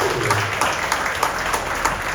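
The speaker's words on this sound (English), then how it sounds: "Round of applause if you've been married longer than 20 years." Comedy show crowd applauding in a sold-out room, an even wash of many hands clapping at moderate volume throughout, with no speech on top.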